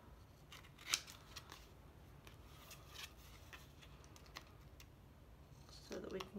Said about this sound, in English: I'm going to want to trim this up.